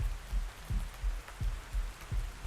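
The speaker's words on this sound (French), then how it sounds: "Dans la mesure où il pleut, je risque pas d'avoir soif pour le moment." Rain in Ark Ascended falls in soft, repeating gusts, low patter swelling and easing about twice a second, quiet and steady with no voices.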